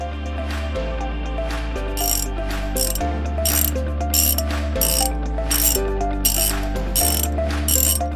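A toy adjustable wrench ratchets on a Bruder toy motorcycle in rapid, regular mechanical clicks, close and steady, over a low repeating musical backing.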